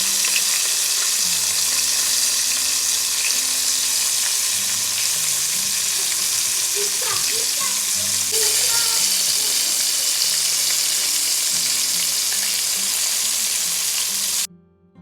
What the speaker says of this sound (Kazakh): балықты екі жағын аунатып жақсылап қуырып алатын боламыз